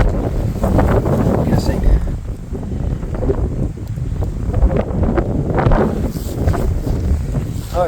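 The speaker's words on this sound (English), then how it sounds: "windy here." Strong wind buffets the microphone at an open, exposed plane crash site in Newfoundland, roaring in continuous gusts with a person's voice speaking faintly underneath.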